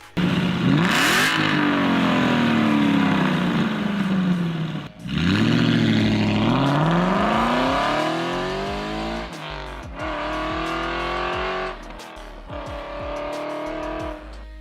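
An Aston Martin V8 Vantage with a dual overhead cam V8 revving hard and close, with engine pitch climbing through repeated shifts, a brief gap, then more rising passes that fade in loudness.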